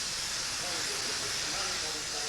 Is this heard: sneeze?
no